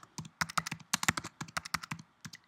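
Someone types on a computer keyboard in a quick, uneven run of crisp, close key clicks, with no talking.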